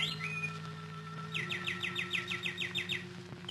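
Birdsong in a 1952 radio drama: a single bird sings clear, repeated chirping phrases, first a short whistle, then a quick series of about eight rhythmic tweets, faint against a quiet, hissy background.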